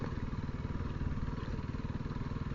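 A Honda CRF300L dual sport motorcycle thrums along a desert trail in Arizona, its engine held at steady revs with a rapid, throbbing pulse close to the rider, no voices.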